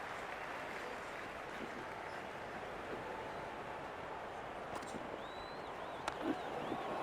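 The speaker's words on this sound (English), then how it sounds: "The crowd is electric right now." A large cricket crowd cheering during an India versus Pakistan match in the video game Cricket 26, heard as a continuous faint roar of distant cheers with no talk over it.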